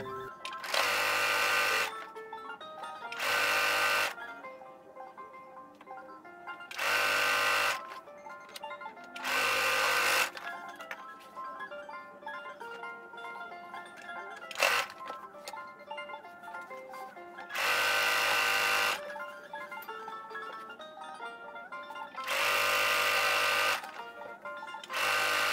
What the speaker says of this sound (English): Now all we are just gonna sew from the bottom area.